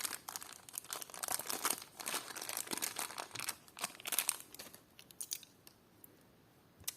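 A plastic packet crinkles and rustles in a run of dense handling noise as a parcel of vintage enamel clip-on earrings is unpacked, the crackling loud and close, then thinning into sparser crinkles near the end.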